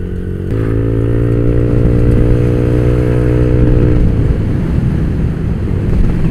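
Motorcycle ridden on a ride toward a river destination, its engine droning loud and close throughout with a steady pitch that shifts partway through, no speech over it.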